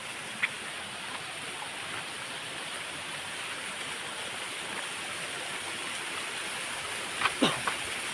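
A small jungle waterfall in rainy weather gives a steady, even rush of falling water, fairly faint and continuous, with a couple of brief knocks and a short sharp sound near the end.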